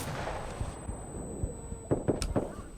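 Gunshots in the console shooter Insurgency Sandstorm sound as a few sharp single-fire cracks, spaced apart with a quicker cluster near the end, over a faint background hum.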